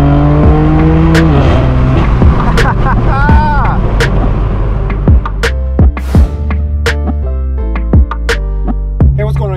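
A straight-piped BMW M4 F82 drives through a busy car meet, its loud exhaust rising and falling in sharp revs and pops close by, with tire chirps and other cars around and voices talking over it.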